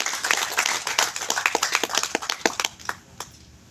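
A small audience at a Tamil film press meet for Neela Nira Sooriyan claps, sharp individual hand claps that start dense and thin out into scattered last claps near the end.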